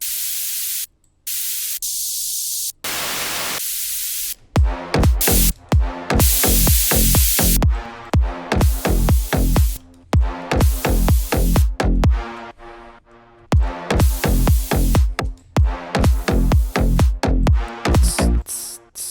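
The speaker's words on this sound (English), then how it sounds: "Maybe we add some white noise." Bursts of hissing white noise, at first alone, then layered over a pounding slap house beat with falling bass hits and rising sweeps, loud and close.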